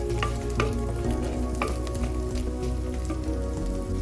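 Chopped shallots with a pinch of salt sauté in a pan for a Kerala kudampuli fish curry, giving a steady close sizzle broken by occasional clicks of stirring, with no voices.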